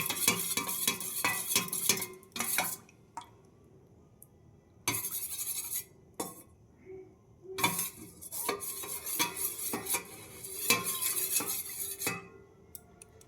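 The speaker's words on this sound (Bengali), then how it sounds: "একটা পাতলা ব্যাটার তৈরি করে নেব মানে খুব মোটা নয় পাতলা একদম" A spoon scrapes and clinks against a bowl while thin batter for crispy potatoes is mixed, coming in bursts of rapid strokes with short pauses between, close and fairly loud, no voices.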